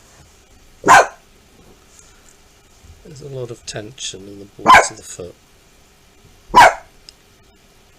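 Three sharp, loud dog barks at a car outside, spaced a couple of seconds apart, with a person speaking calmly between the second and third.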